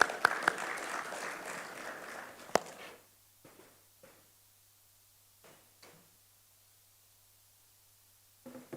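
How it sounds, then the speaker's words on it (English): Audience applause at a conference on intra-African trade in Ghana rises for about three seconds, then stops and leaves near silence broken by a few faint knocks. "A round of applause."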